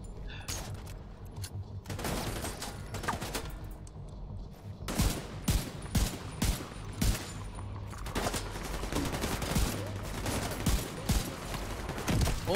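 Gunfire in The Division 2 video game, a mix of rapid automatic bursts and sharp single shots, loud and close, coming in clusters with brief lulls between volleys.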